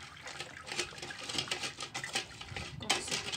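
Baobab seeds stirred in a pot while water is poured in for juice: close, irregular scraping and clinking with splashy, watery swishes in quick uneven bursts, no voices.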